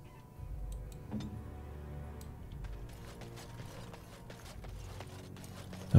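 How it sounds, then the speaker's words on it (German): Ox hooves clop in a steady rhythm in the fantasy role-playing game Dragon Age: Origins, a soft, moderately close series of hoof falls over quiet ambient game sound, with a louder thump right at the end. "Da haben wir eine Kuh, ein Ochse."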